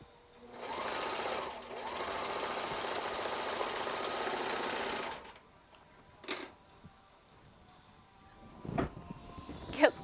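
A sewing machine stitches a patchwork coat in a fast, steady whirring run of about five seconds, then stops, leaving a quiet room with a few scattered knocks and handling noises.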